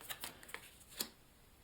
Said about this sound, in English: Give these another quick shuffle.